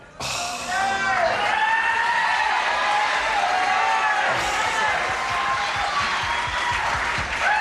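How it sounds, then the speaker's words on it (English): A 1984 television game show studio audience erupts into loud, sustained applause and cheering with whistles, a close, dense wash of clapping that holds steady for several seconds. "the way this audience is cheering"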